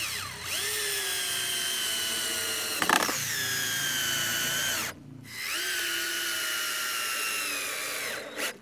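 A power drill drives screws into 2x4 lumber for a raised garden bed frame, with two long whirring runs that wind up, hold steady and wind down, separated by a brief clatter and a short pause.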